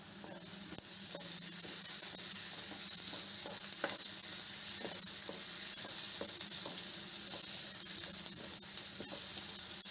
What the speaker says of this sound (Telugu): ఇప్పుడు కొద్ది గ్రీన్ చిల్లీస్ వేసుకుందాం.